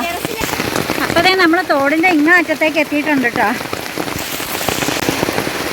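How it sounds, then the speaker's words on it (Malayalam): Steady heavy monsoon rain hisses throughout during flooding in Kerala while someone speaks over it, the downpour continuing after the talking stops. "മഴ എന്ന് വെച്ചിട്ടുണ്ടെങ്കിൽ അടാറ് മഴയാണ് അടാറ് മഴ"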